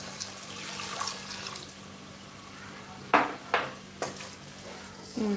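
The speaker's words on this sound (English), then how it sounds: "I'm going to add more water." Water splashes into a pot of cooking rice in a few short bursts, each with a quick gurgle, against a quiet kitchen background with a steady low hum.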